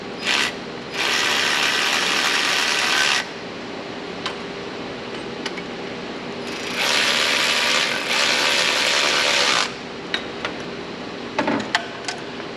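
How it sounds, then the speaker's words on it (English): A Harbor Freight 3/8 inch ratchet turns bolts on a truck in two long runs of rapid, loud clicking, with a few scattered taps and clinks in the pauses and afterward. "I got these two Harbor Freight 3/8 inch ratchets."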